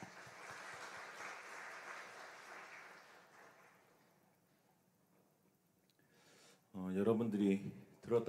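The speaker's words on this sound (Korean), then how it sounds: "우리 하나님께 영광의 박수 올려드립시다" A youth worship congregation at a Korean church applauds for about three seconds, moderately loud clapping that thins out and fades into quiet before a voice starts speaking.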